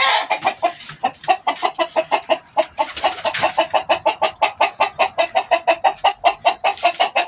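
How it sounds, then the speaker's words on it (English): Chickens cluck loudly and close by in a steady, rapid rhythm of short repeated calls, several birds overlapping in a coop, with no voices. "That's the chickens."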